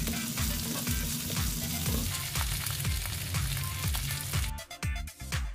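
Beans and potatoes fry in a pan, a dense close sizzle with repeated scraping strokes of a spoon stirring at a steady rhythm, no one talking.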